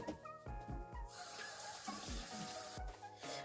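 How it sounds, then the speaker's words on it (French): A paintbrush is rinsed in water after painting with terracotta brown paint, producing close, soft sloshing and swishing with a few low knocks against the water container. "Donc je vais rincer mon pinceau."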